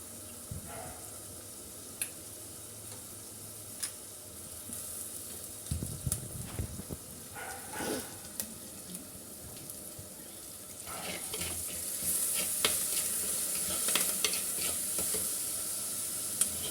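Curry leaves hit hot oil with browned onions for a fish curry, setting off a steady close sizzle and hiss, with occasional crackles and stirring scrapes as it grows louder toward the end.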